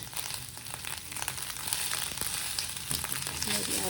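An amla mixture sizzles steadily in a hot pan while it is stirred, giving close, constant crackling with light scraping.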